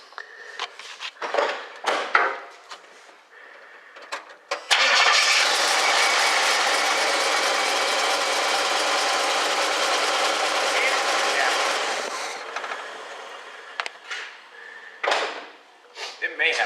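A 1976 Pontiac Firebird Formula engine runs with a slight miss, a steady close drone lasting about seven seconds, with scattered knocks and voices talking before and after it.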